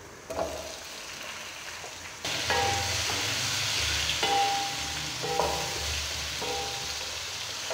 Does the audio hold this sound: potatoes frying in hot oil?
yes